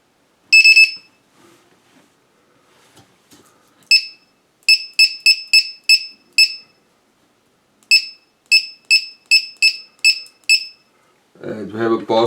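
A drone battery low-voltage alarm buzzer set at 3.4 volts on an Eachine EC250 3S quad sounds a loud high-pitched beep, then bursts of rapid repeated beeps in clean quiet, with a voice starting at the end.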